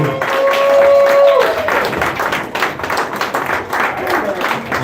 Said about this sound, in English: Clap it up for the comedy stars and cheers.